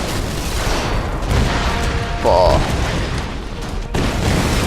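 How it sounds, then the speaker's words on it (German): Explosions boom through the Tomb Raider video game soundtrack, a continuous loud rumble with bursts, while someone speaks briefly over it. "Ah, schon wieder explodiert alles überall."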